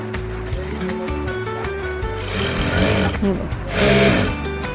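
A sewing machine stitches a half-inch pressed fold on salwar fabric, its rapid mechanical whirr running continuously and rising louder toward the end.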